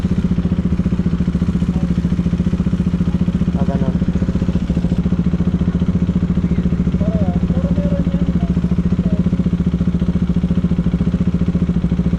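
A medium engine drones steadily throughout, with wind-like rumble and occasional faint clatter, as if heard while riding.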